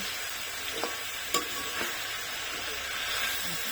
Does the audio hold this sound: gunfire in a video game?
no